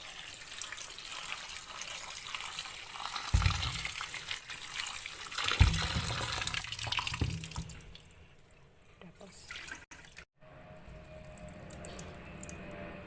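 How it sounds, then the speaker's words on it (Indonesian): Sliced chayote, salted and left to rest, is rinsed under a running tap in a kitchen sink. The water splashes and gushes at moderate volume, then thins to light trickles and drips near the end. "Ini saya cuci bersih."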